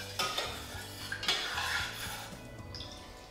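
Lemon juice and cooled sugar syrup being stirred together in a container, with a few clinks and scrapes followed by a soft swirling wash that slowly fades, close by.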